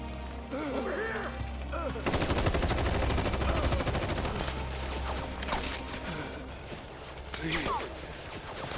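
Shinra soldiers open fire in Final Fantasy VII Rebirth: bursts of game gunfire rattle repeatedly from about two seconds on, dense and fairly loud beneath a rumbling score, with brief character voices earlier.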